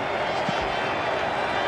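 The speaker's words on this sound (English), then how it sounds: "the crowd's gone mad" A crowd roars at a cricket match at Eden Park during the 1992 Cricket World Cup, New Zealand against South Africa. The noise is a loud, dense, continuous wash of cheering that holds steady throughout.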